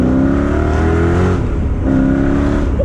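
Chevrolet Corvette ZR1 engine revs hard toward roughly 5,000 RPM, a loud close-up roar with rising harmonics that dips briefly midway and then climbs again, no talking.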